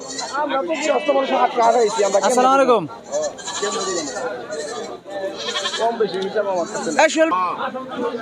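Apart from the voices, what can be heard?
goats and sheep bleating at market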